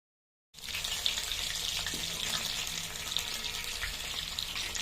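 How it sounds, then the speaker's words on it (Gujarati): Spinach-wrapped paneer and cheese pakoras dipped in gram flour batter fry in hot oil, giving a steady, dense close-up sizzle that starts abruptly after a brief silence and continues evenly throughout, with no talking. "તેલમાં તળી દઈશું."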